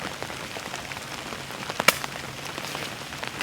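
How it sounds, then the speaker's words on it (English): Steady rain patters on a vegetable garden, a soft continuous hiss scattered with faint individual drop taps and one sharper splash partway through. "This rain just keeps coming and coming and coming."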